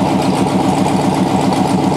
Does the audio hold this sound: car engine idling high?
yes